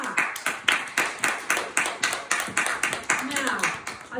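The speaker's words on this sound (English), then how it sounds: "Let's give Isla a big clap." Children clap along in a steady, rhythmic beat during a primary school worship assembly, each clap sharp and evenly spaced over several seconds, with voices faintly present beneath.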